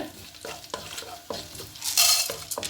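Chana dal and two dried red chilies fry in hot oil with a steady crackling sizzle, broken by several sharp stirring scrapes and a louder hissing burst near the end; no voices.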